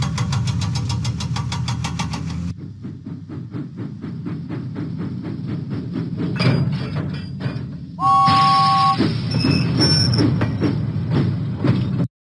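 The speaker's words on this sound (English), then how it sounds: "James pumped his pistons and puffed out of the docks." In a Thomas & Friends video game, a cartoon steam engine puffs along with a steady, rhythmic chuffing beat. A bright whistle-like tone cuts in partway through, all close and fairly loud.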